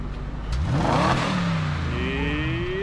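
A 2004 BMW 645Ci engine revved once from idle, the loud nearby tone sweeping up sharply and then easing back down, with no voices.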